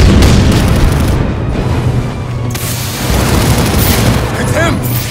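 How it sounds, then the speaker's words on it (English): A grenade goes off in the Batman Arkham Origins game on PS3: a loud, deep boom with rumbling low-end decay, then a renewed burst of blast noise, with voices briefly mixed in. "Grenade!"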